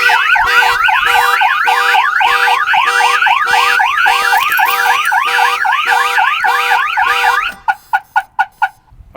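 A Viper car alarm system blares at full stage, a loud, steady cycling siren of rapidly rising and falling tones that runs for several seconds, then switches to a short series of sharp, evenly spaced chirps before stopping.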